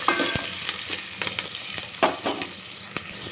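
Stuffed brinjal fries with salt in a pan, making a loud, close sizzle. A spatula stirs and scrapes it in irregular clacks, and no one speaks.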